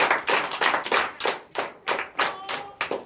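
A church congregation claps in acclamation to Jesus during a night deliverance service, a loud, steady rhythmic beat of about a dozen sharp group claps with no talking.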